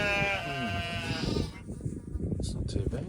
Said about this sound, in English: I think that's a llama or a goat or something.